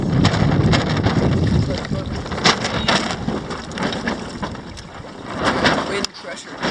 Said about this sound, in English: Here comes the big wind.